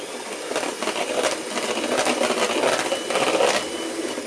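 Cupcake batter for soft raisin muffins, with vanilla and lemon juice added, is mixed with a steady, close whirring drone and a dense rattle that continues without a break.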